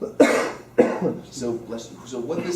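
Someone in a calculus lecture hall gives two sharp, close coughs, followed by someone speaking.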